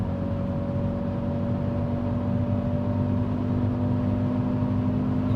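Kia Stinger 2.0 Turbo cruising at high speed above 4000 rpm, heard from inside the cabin as a steady, muffled engine and road hum with a constant drone, no talk.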